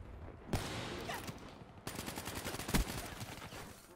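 Video-game gunfire with a Lycos-type weapon cracks in short bursts of rapid shots, fairly quiet and distant-sounding, with several sharp reports clustered near the end.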